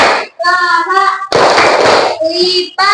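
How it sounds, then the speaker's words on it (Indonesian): Children and a teacher play a clapping ice-breaker in a classroom, chanting in sing-song voices. Sharp, noisy bursts of hand claps come in short groups between and over the loud, close chanting. "Tepuk antar teman."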